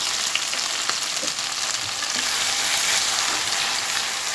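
Ground fish paste for lote shile bata hitting three tablespoons of hot mustard oil over high gas, a loud dense crackling sizzle holding steady throughout, close and with no one talking.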